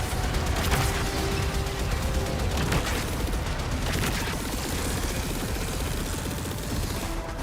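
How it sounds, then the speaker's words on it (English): Torpedoes launched at a cruise ship during a Warframe space battle: a dense, loud, continuous roar of rumbling blasts and rapid firing, with no break across the stretch. "Torpedoes away!"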